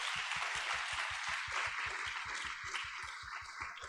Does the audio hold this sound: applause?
yes